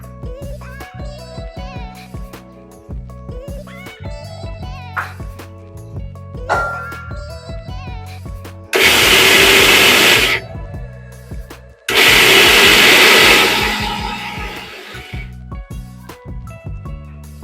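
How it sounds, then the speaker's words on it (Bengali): An electric blender grinds raw cumin seeds at home in two loud, roaring bursts of a few seconds each, separated by a short pause, with quieter background music before and after. "ব্লেন্ডারটা লাগিয়ে নিলাম।"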